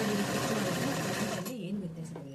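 A sewing machine stitching patiala pants whirs steadily at close range, then stops about halfway through and gives way to quieter sounds.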